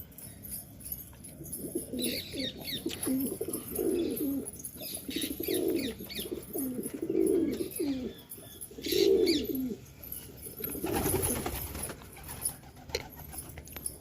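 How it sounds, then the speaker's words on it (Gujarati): Pigeons cooing in repeated low rolling phrases nearby, with occasional chirps, shuffling and a brief burst of wing flapping, no talk. "આ બધા કબૂતર જો રખડે"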